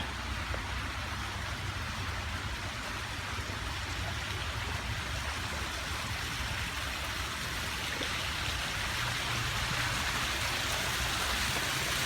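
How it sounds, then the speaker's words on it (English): Steady, dense rush of an 8-foot waterfall cascading from an upper pond into a pool below, close by and unbroken, with no voices. "It's about an 8-foot waterfall, and this cascades down from a pond up top"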